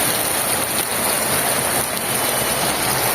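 Steady, dense rain falls in a village, a continuous close hiss of drops on surfaces with no pauses or voices.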